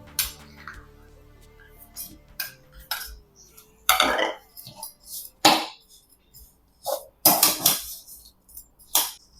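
Grated raw mango and jaggery are mixed in a bowl along with cinnamon, cloves, black salt and cardamom powder: irregular clinks and taps of a spoon against the bowl with quiet scraping, near and intermittent.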